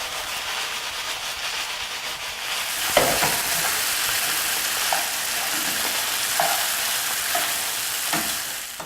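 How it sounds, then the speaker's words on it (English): Gluten-free pasta and sautéed vegetables with lemon juice sizzle in a pan, a continuous close frying hiss that swells after a few seconds, with occasional light clinks of stirring. "we're going to cook this for an additional 2 minutes to get all the flavors infused in the pasta and the vegetables"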